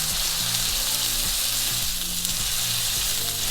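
A hot cast iron pan hisses with a steady, loud broadband sizzle throughout, with a low rhythmic hum and tonal thumps underneath, no talking.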